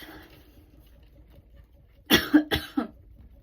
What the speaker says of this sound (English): I feel like I need to cough.